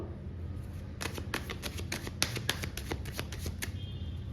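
Tarot cards being shuffled and drawn: a rapid run of crisp, close riffling flicks in quick succession, quiet and without talk.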